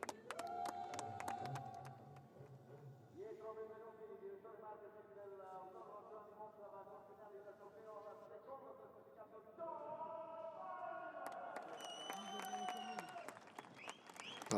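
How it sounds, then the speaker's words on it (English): Crowd applause at the podium ceremony of the 2018 TCR Europe touring car round at Monza, a steady wash of clapping lasting throughout, mixed under prominent tonal music and voices. "Applause yet again then for Jean Calvinet."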